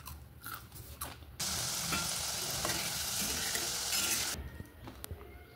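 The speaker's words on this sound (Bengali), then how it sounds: "বাকিগুলো ভেজে নেব।" Small potato snacks made from boiled potato and flour fry in hot oil, bursting into a loud, steady sizzle that lasts a few seconds before dying back to quieter kitchen clatter.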